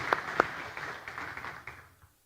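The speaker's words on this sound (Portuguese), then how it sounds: "Uma salva de palmas para eles." An audience claps in applause, two sharp claps standing out at the start before the clapping thins and fades away within about two seconds.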